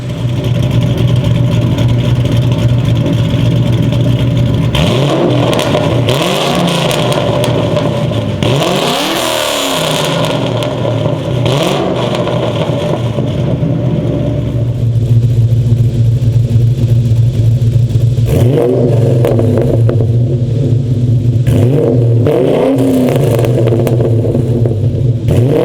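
A bolt-on Ford Mustang fitted with a cheap eBay aftermarket exhaust idles with a deep rumble and is revved loudly several times, each blip swelling and dropping back to a steady burble, close by with no talking.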